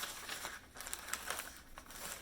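A sheet of paper is handled and crinkled while unboxing a subscription box, with soft, quiet rustles and crackles in short irregular bursts close by.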